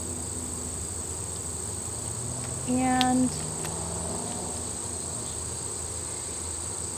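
A steady buzz of honey bees fills the air over an open hive during an inspection, with a brief louder tonal drone midway and a voice speaking briefly.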